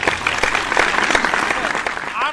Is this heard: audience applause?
yes